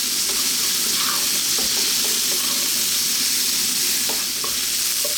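Pieces of fish for sweet and sour fish fry over high heat in a hot pan, giving a loud, constant sizzle with scattered soft clicks and scrapes as the pan is stirred, close up and with no talking.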